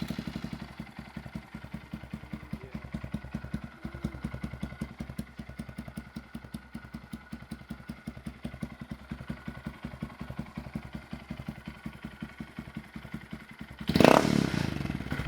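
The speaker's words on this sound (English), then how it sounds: "let's fire it up and see just how good this exhaust sounds" Honda Grom motorcycle fitted with a Yoshimura exhaust idling with a rapid, even thumping pulse and some rattling, then starting a louder burst of revving near the end, recorded close up with no voices.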